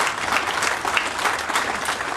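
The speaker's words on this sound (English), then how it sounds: "I'll take an applause on that." Audience applause at a state press conference on a farms food hub, a dense, steady burst of clapping from a crowd for a couple of seconds, no talking over it.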